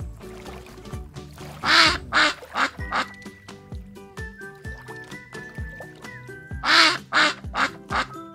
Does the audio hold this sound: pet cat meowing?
no